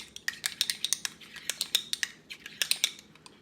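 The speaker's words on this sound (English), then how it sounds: "We're gonna mix this up a little bit." Garlic and poke bowl ingredients mixed in a bowl, a quick run of light clinking and tapping strikes from a utensil against the dish, close and fairly quiet, with no voices.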